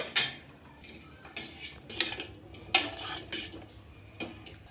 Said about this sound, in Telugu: దీన్ని దీంట్లో పెట్టేసుకొని ఈ ముక్కలు వేసేసుకొని దీన్ని కరిగించుకుందామండి